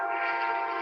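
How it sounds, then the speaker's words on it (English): A train passes near a home with its horn sounding, giving a steady, loud, sustained roar with a bright horn tone throughout the brief moment and no talking. "How loud was that train?"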